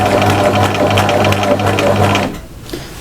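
A sewing machine stitching an appliqué window on a mushroom-house cushion: a loud, close, steady motor whir with rapid needle chatter for over two seconds, then it stops, leaving a faint quiet room.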